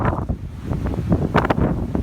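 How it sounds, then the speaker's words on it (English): Strong wind buffets and roars steadily, with gusty rushes and rumbling low noise, no voices present. "It's real windy now."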